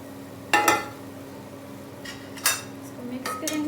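A pot of white mutton pulao opened and the cooked rice mixed with a metal spoon, a few sharp close clinks and scrapes against the pot separated by quiet pauses.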